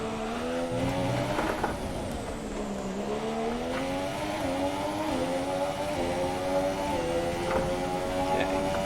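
Formula 1 car engine in F1 2017 at Monaco, a loud continuous high-pitched whine rising and falling through gear shifts as the car accelerates and brakes around the street circuit.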